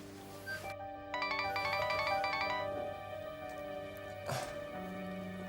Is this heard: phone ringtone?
yes